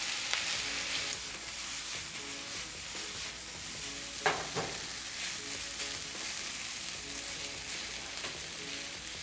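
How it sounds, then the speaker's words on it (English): Vegan veggie fried rice frying in a pan with garlic powder and aminos, a steady close sizzle with stirring throughout and one brief louder scrape near the middle. "Now we fry."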